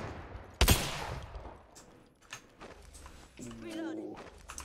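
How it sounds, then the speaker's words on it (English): Gunfire strikes the player during an Apex Legends match, a sharp loud burst near the start followed by scattered fainter shots and game effects, with a voice talking over it. "Oh, I'm getting shot."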